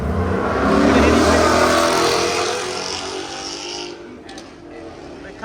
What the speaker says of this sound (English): That Mustang did sound good